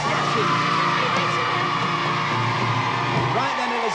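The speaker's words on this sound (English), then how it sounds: "let's give a nice big round of applause" A studio audience on the children's TV show Crackerjack claps, cheers and whoops loudly and continuously, with excited voices mixed through the crowd noise.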